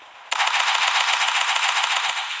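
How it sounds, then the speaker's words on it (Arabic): Sustained rapid automatic gunfire from a weapon in the online shooter Local Warfare, starting abruptly after a brief lull and continuing as a loud, dense burst of fire to the end. "خلونا نجرب السلاح التاني"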